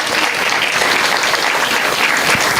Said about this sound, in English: Can we hear a huge round of applause for them?